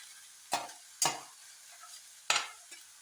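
Onion and green chilli fry in oil for a bitter gourd thoran under a quiet constant sizzle, with three distinct scraping stirs of a spatula against the pan, close and clear.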